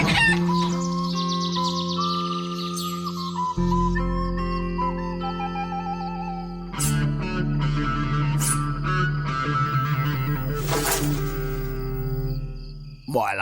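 Cartoon chickens cluck and crow in an animated fairy tale about colourful hens, the bird calls riding over a steady musical score that plays throughout without pause.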